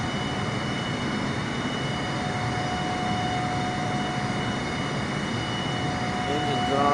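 Aircraft engines in Microsoft Flight Simulator drone steadily at about 75% power, a continuous loud roar with a faint tonal whine that stays constant throughout.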